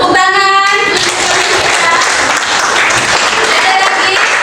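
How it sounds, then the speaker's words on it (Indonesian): A classroom of students applauds, dense continuous clapping that stays loud and steady throughout, with a brief voice at the very start. "Ya, tepuk tangan."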